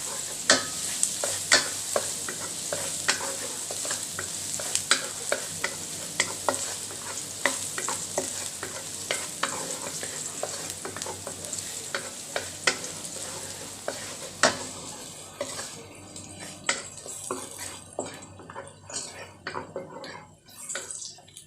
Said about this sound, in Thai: ใส่กระเทียมลงไปกับผัดกระเทียมให้หอม